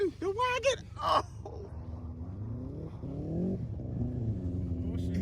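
BMW F30 xDrive sedan drifting in snow, its engine revving up and down in steady rising and falling sweeps, close and moderately loud, with people talking and exclaiming over it at the start.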